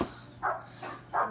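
A dog gives three short barks indoors, each one brief and moderately loud with short gaps between them.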